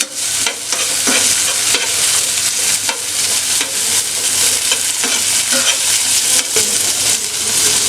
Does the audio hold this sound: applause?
no